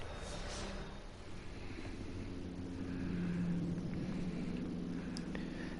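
Helicopter rotor and engine drone in the video game Prey, a steady low whirring hum at moderate distance with no talk.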